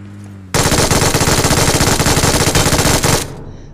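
An MG3 machine gun fires in PUBG, one long loud continuous burst of rapid, evenly spaced shots lasting about three seconds before cutting off.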